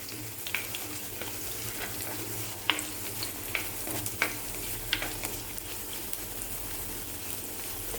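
Curry leaves and tamarind sautéing in hot oil for a coconut-milk fish curry give a steady close sizzle with scattered sharp crackles and pops, with no talking.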